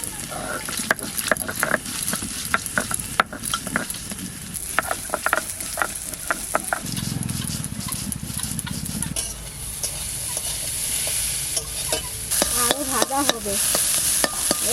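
Food frying in a pan while being stirred: a continuous sizzle with frequent scraping and knocking strokes of the spatula, close up, with a voice talking over it throughout.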